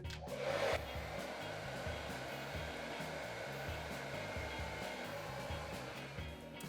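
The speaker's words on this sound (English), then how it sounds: "I've got my hairdryer ready for the ultimate test" Parlux hair dryer running on its cool setting blows a steady, close airflow roar with a constant motor whine, loud and unbroken for nearly seven seconds, with no talking.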